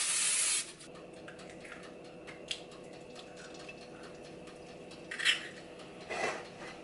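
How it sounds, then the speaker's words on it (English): A short, sharp hiss of Pam butter cooking spray opens, followed by quiet kitchen clinks and faint taps. "I'm just gonna use some Pam butter spray."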